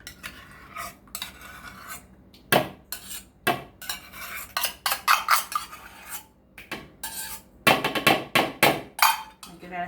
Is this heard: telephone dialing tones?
no